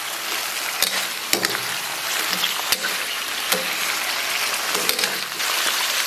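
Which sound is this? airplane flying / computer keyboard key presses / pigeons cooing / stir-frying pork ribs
stir-frying pork ribs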